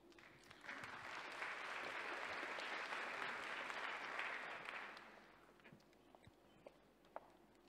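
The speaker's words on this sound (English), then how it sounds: "give them a warm round of applause" An audience at the opening of the LOGIN 2018 conference gives a warm round of applause for the event's ambassadors, swelling to a steady dense clapping that lasts about four seconds and then thins out to scattered claps.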